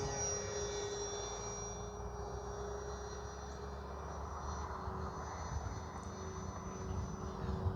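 Distant, steady drone of an Arrows RC Sky Cruiser model airplane's engine in flight, holding a constant pitch, faint and continuous throughout.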